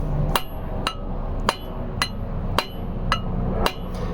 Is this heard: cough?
no